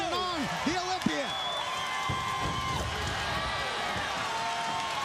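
A wrestling crowd in the Sundome arena roars steadily throughout, a dense wash of cheering with a commentator's voice talking over the opening moments.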